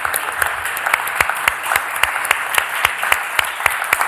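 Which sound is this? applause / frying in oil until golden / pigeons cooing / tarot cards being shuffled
applause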